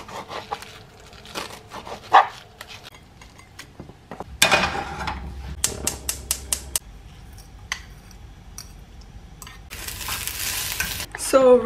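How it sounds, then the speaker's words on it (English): Steady sizzle of an egg frying in a pan with intermittent kitchen clatter and scraping, close and moderately loud, no talking. "while my egg is cooking, I put it a little too early, that's why you guys can hear like the sizzling sound"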